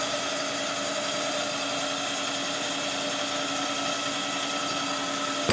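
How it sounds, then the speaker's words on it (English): Boring machine cutting out a worn 1958 Harley-Davidson 74ci FL Panhead cylinder, a loud steady whining drone with a constant mechanical tone throughout, no voices. "But this cylinder has to be honed out and made true. So it's going to be bored a little bit."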